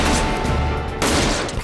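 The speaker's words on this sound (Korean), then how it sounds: "허공을 가르는 총성." A burst of gunfire rings out in a sniper and assassination scene from a Korean action film, loud and dense with overlapping shots over about a second and a half.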